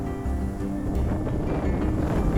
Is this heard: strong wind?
yes